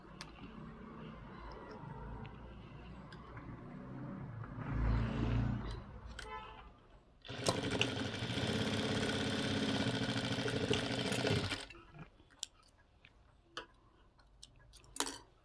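A sewing machine stitches tucks on a blouse: a steady mechanical whirr runs for several seconds in the middle, with quieter handling ticks and rustles before and after, close and without talking.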